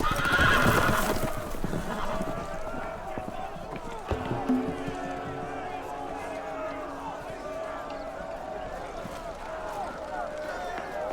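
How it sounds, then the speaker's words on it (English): In the Telltale Game of Thrones video game, a horse whinnies loudly at the start as loose horses gallop off with commotion, with voices and game sounds layered underneath. "The horses! They're loose!"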